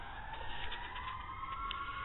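A wailing siren rises and falls steadily in the background, muffled and somewhat distant, with no talking.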